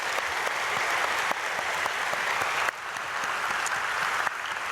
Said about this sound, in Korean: 한번 자리에서 일어나시고 우리 박수로 축복하겠습니다